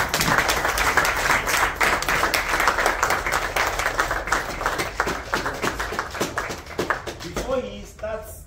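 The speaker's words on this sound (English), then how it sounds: "I would like us to stand on our feet as we welcome our father of the house by clapping" A standing audience at a business empowerment session claps hands together, a dense run of rhythmic claps that stays close and loud and then thins out near the end.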